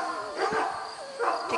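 A puppy on its first day out gives a few short, high yips and whimpers close by, two bursts about a second apart, with soft human voices around it.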